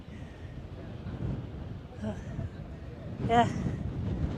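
Low, buffeting wind rumbles against the microphone throughout at Watarrka gorge in central Australia, with a person briefly speaking over it.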